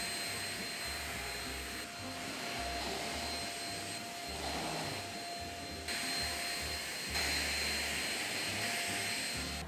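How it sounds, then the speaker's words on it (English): A vacuum cleaner runs continuously as it sucks dust from pillows, a loud steady whine and roar that shifts slightly in pitch as the nozzle moves over the fabric, with no voices. "I'm gonna get some of my pillows from downstairs and I'm gonna vacuum them"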